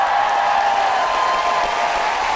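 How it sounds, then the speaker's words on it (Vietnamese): An audience at a dance battle show applauds warmly, a dense steady wash of clapping filling the room with no voices over it. "một tràng vỗ tay nồng nhiệt nữa thưa quý vị"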